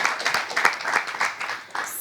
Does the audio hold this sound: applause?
yes